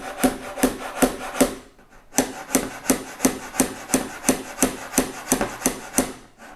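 A hammer rubbed back and forth along a wooden picture frame board, giving a steady series of about fourteen rasping strokes with a short pause partway through, close and loud with no talk.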